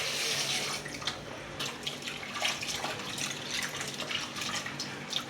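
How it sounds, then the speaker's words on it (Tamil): Water poured into a cooking pot for mutton leg paya, a steady splashing stream with light bubbling that runs throughout, close and fairly loud with no voices. "நம்ம வேணுங்கிற அளவு தண்ணியை ஊற்றிடுங்க"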